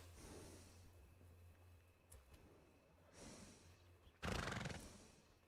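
A horse in the Red Dead Redemption 2 video game snorts and breathes, then lets out a loud, sharp whinny near the end, close and alone with no talk.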